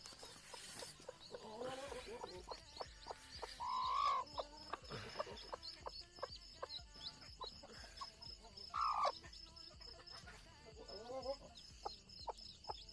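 A hen clucks softly amid faint high peeps from her newly hatched chicks, with a few louder squawks and a voice speaking in the background.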